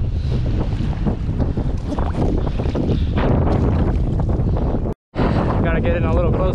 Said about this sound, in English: Gotta get in a little closer in case this wind doesn't stop.